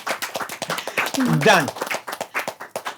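A few people clap in a quick, close patter of sharp hand claps that runs under and around a voice speaking in the middle.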